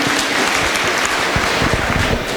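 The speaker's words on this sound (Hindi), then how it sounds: "प्लीज़ अपने लिए आप तालियां ज़रूर बजाया करो।" An audience at a panel discussion on maternal and neonatal health in Pakistan applauds, a dense, steady wash of clapping that holds at full volume throughout, with no pauses or talking over it.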